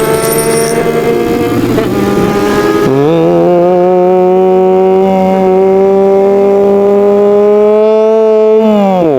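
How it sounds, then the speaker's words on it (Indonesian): Engines of cars racing in a video game drone loudly and continuously, rising in pitch as they accelerate, with bright chiming game sounds at the very start. "Kita harus balapin mobil-mobil ini."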